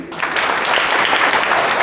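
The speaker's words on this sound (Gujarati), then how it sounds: "મારી વિનંતી કે એકવાર તાળીઓ વગાડી દો" A crowd claps together at a birthday celebration at an institution for the blind, a dense, loud burst of applause sustained evenly for a couple of seconds.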